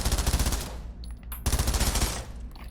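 SMG fire in Pavlov VR: two fast automatic bursts of rapid, evenly spaced shots, close and loud, separated by a brief pause with a faint mechanical click.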